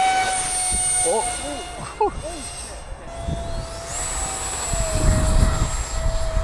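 A fast RC jet plane flies overhead with a high, steady turbine whine that pitches up partway through, while people talk nearby outdoors.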